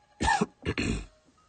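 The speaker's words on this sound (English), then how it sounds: "I'm trying not to cough so I don't wake up my wife and baby." A person coughs once, then clears their throat in two rough bursts, close and fairly quiet, with silence after.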